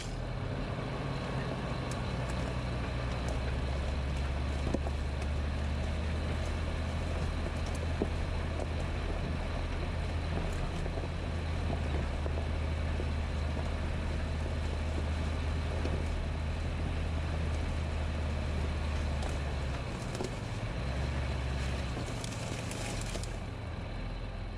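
A car climbing a bush trail, with a steady low engine drone and rumble running throughout, close and continuous, with faint rattles and knocks over the top.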